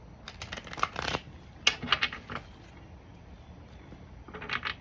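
Tarot cards shuffled close up, quick papery riffles in bursts with short pauses between them, no voices.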